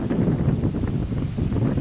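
Strong wind buffets the microphone in steady, rumbling gusts at a reservoir shore during a fishing trip, with no voices, a loud continuous roar throughout.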